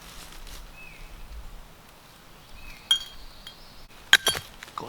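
A few sharp glass and metal clinks ring out near the end, close and bright, as bottles and cans are shifted around in an old hillside dump; quiet rustling fills the earlier stretch, and there is no talk.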